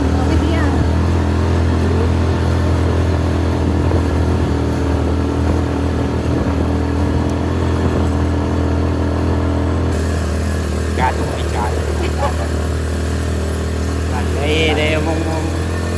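A motorcycle engine runs steadily through the whole stretch, a loud continuous low drone with people talking and laughing over it at a birthday gathering.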